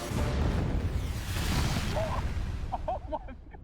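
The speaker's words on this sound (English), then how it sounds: "Explosion!" A loud explosion effect near a tank with a strongman aboard gives a sustained broadband boom and rumble that fills the whole stretch and fades slightly at the end, with excited voices calling out near the close.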